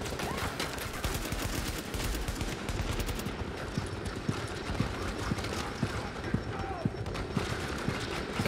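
Rapid bursts of automatic gunfire from the video game The Division in Times Square, sustained and loud, with sharp repeated shots over a dense background.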